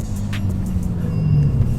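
A front-wheel-drive Seat Leon Cupra with a 2-litre turbo engine drives along, its low engine hum and road rumble steady and close, heard from inside the car with no talking.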